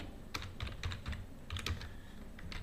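Computer keyboard typing in short bursts of clicky keystrokes, fairly close and moderately quiet, with no talking.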